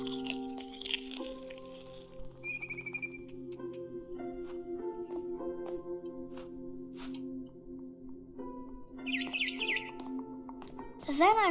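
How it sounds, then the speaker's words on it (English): Small chirps from a barn swallow outside a window in the game What Remains of Edith Finch, brief high tweets rising over a quiet, humming ambient backdrop, with a sharper call near the end. "Then I heard chirping outside my window."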